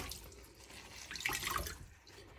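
Cold rinse water drips and trickles from a squeezed piece of handmade fabric, a faint wet patter with a brief fuller burst midway.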